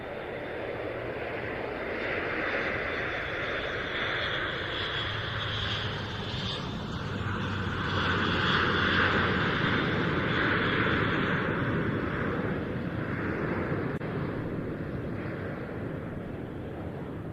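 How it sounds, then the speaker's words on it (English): An Airbus A400M military transport aircraft makes a slow pass at an air show, its turboprop engines giving a steady, loud, droning roar with a pulsing throb that swells slightly toward the middle and holds throughout. "There's some comments about the sound made by the A400M"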